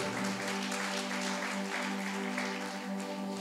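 Applause rings out at a Christian worship gathering, a steady dense wash of clapping that fills the whole stretch at even loudness, with a sustained musical tone underneath.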